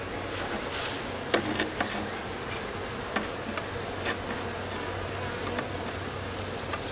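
Honeybees from a swarm hum in a dense, continuous drone around hive frames, with faint clicks and light knocks scattered through the steady buzz, close and unbroken.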